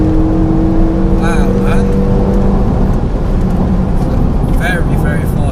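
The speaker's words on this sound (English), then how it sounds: "I love the sound that this car makes from inside the cabin." A Renault Megane RS engine heard from inside the cabin on the road, a loud steady drone with brief rising rev sweeps, while occupants talk over it.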